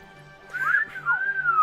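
A person whistles a rising-and-falling catcall, two quick upward swoops followed by a longer sustained note, clear and close over a faint background hum.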